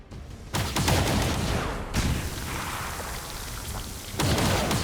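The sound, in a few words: Shredstorm cannon firing in the video game XCOM 2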